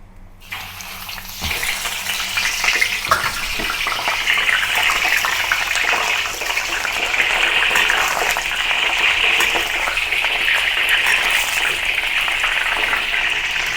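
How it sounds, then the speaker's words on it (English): Pork knuckle dropped into hot oil in a wok, a quiet start, then a sudden loud hiss that becomes a steady, vigorous crackling sizzle lasting throughout. "Heat some oil in the wok, and once it is heated, now I'm going to put the pork knuckle into the wok"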